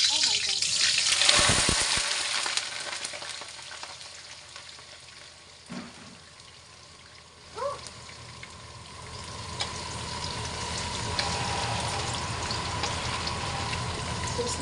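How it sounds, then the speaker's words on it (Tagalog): Potatoes frying in hot cooking oil for a home-cooked chicken curry, a steady broadband sizzle that swells after they drop into the pan and keeps running, with occasional clinks and a voice speaking over it. "nakapainit na tayo ng mantika. So, iprito lang natin itong ating patatas"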